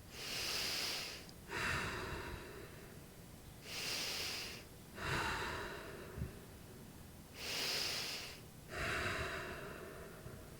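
Heavy, deliberate yoga breaths while holding a crescent lunge in a strong vinyasa flow, three slow cycles with a rushing inhale and a long exhale each, close and clear with no talking.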